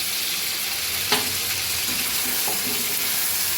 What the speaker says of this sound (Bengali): এটাকে দিয়ে আমি একটুখানি কষিয়ে নেব